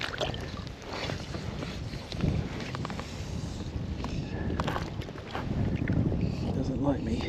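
Wind gusts across a Hebridean loch around a float tube angler fly fishing for wild brown trout, a steady rushing roar buffeting the microphone, with water movement and someone talking over it.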